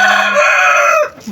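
A pet rooster crows nearby, one loud, drawn-out call lasting about a second, followed by a brief soft cluck.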